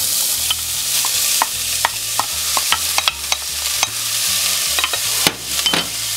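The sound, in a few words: chopped onion frying in olive oil in a pan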